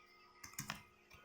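Typing code in Android Studio on a computer keyboard, a short cluster of a few soft keystroke clicks, faint and close.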